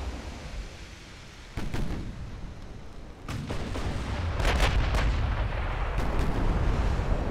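Naval 15-inch guns fire and their high-explosive shells burst in the Ultimate Admiral: Dreadnoughts game, with several heavy booms and rumbling blasts rolling over a steady roar, growing louder as the salvos go on.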